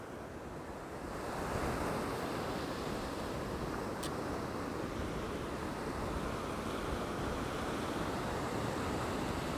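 Constant roaring surf with heavy wind rumble across the microphone; the wash swells after the first second and stays loud and unbroken.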